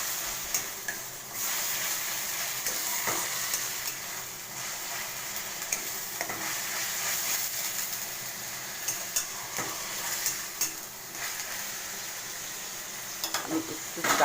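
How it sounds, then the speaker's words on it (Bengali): Grated onion fries in a pan, with a continuous sizzle under repeated scraping and stirring clatter from a utensil against the pan, close by and fairly loud. "পেঁয়াজটা একটু লাল লাল করে ভাজা হবে, খুব লাল ভাজা হবে না,"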